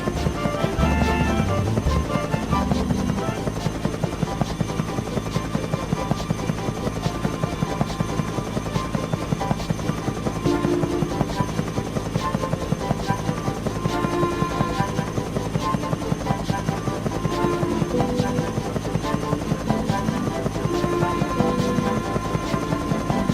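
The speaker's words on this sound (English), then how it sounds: "There's a biplane flying near you." A biplane drones continuously in the Thomas and Friends Trouble on the Tracks video game, its steady engine hum mixed with game music throughout.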